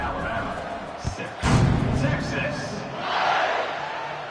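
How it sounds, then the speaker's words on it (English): A football stadium crowd cheers before an Eagles kickoff, a broad roar that rises and swells under a play-by-play announcer's voice, broken by a couple of sharp thumps early on. "They're set to kick it off, and this crowd now ready to get behind them."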